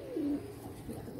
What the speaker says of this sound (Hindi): ये 3 कबूतर एक साथ पकड़े हैं हाथ में, और तीनों नायाब है